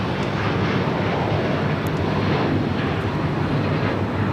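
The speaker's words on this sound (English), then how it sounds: "This is Qatar Airways Flight 742 taking off to Doha on the A350 1000." A Qatar Airways Airbus A350-1000 takes off from LAX bound for Doha, its jet engines producing a loud, steady broadband roar that fills the whole moment.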